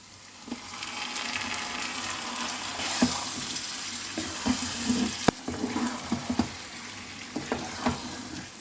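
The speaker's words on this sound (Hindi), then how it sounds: "प्याज जब हमारा लाइट गोल्डन ब्राउन हो गया है, अब इसमें हम चिकन को डाल देंगे।" Chicken pieces sizzle in a pan with light golden-brown onions, a steady crackling fry punctuated by scraping stirs and small clatters of a spoon, close and moderately quiet.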